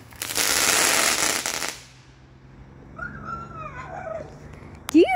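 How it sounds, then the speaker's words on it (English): A loud rushing burst of fireworks dies away, then a dog whines and whimpers in thin, rising cries near a backyard trampoline, ending with a sharp, close yelp. "There's my dog going crazy."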